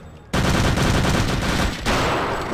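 Rapid automatic gunfire in the Return to Castle Wolfenstein video game bursts in loud and dense after a brief quiet start, rattling on continuously with a short dip before resuming at full volume.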